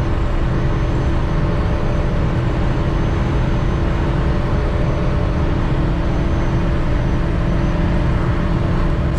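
VW Gol 1.6 AP four-door G2 engine revving hard under acceleration in fourth gear at high speed, a loud, steady, dense roar held throughout with no letup.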